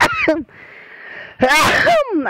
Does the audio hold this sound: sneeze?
yes